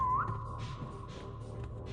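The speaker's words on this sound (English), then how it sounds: "I'm gonna whistle again." A single rising whistle sounds at the start inside the Infinite IKEA survival game, then a steady tone lingers faintly over a quiet low background.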